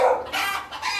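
Chickens cluck at a Vietnamese farm with pens of junglefowl and pheasants, giving three quick, close squawking bursts with no talk.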